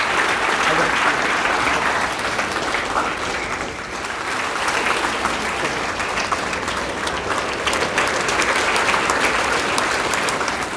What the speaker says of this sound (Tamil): பலத்த கரகோஷம் எழுப்பி அவங்கள வந்து கௌரவிக்கும்படி கேட்டுக்கொள்கிறேன்